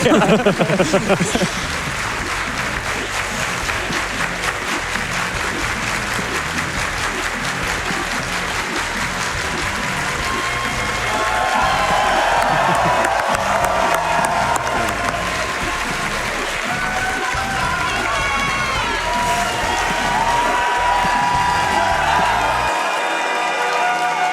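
Prolonged audience applause at a live speedrun event, loud and continuous with scattered cheers and whoops, swelling in the middle before cutting off abruptly at the end.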